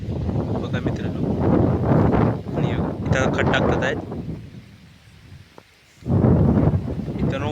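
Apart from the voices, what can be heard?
strong wind blowing over rainy fields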